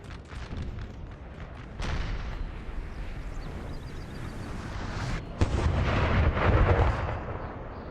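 Artillery in a Napoleonic battle on the field of Auerstedt in the Napoleon's Eagles video game fires as a continuous roll of distant booms and rumbling blasts, swelling louder with heavier salvos near the end, no talking.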